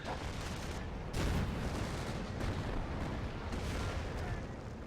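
Tank cannon and artillery fire in a World War II real-time strategy game, with Shermans and Panthers engaged: dense, continuous rumbling battle noise with repeated booming impacts layered over one another throughout.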